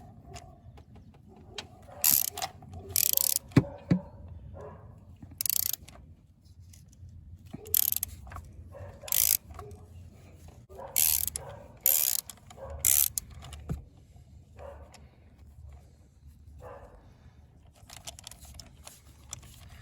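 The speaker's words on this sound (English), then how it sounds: "remove the spark plug with the traditional 16mm hex and an extension and the ratchet" Ratchet with a 16mm spark plug socket and extension loosening the cylinder 1 spark plug on a 2014 Opel Corsa D 1.4; short, sharp bursts of clicking repeat at close range over a low background hum.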